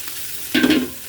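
Pre-fried rice is tipped into a pot for khichuri, setting off a sudden loud sizzle after a quiet moment that fades within half a second.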